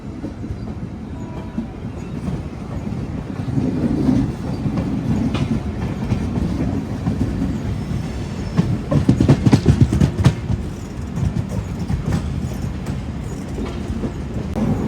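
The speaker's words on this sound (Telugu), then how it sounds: "అటు సైడ్ ఐసీఎఫ్ కోచెస్తో ఒక బండి వచ్చింది కదా" A passenger train with ICF coaches rumbling through Renigunta Junction, a loud steady roar with rhythmic clickety-clack of wheels over rail joints swelling midway, close to the listener and without voices.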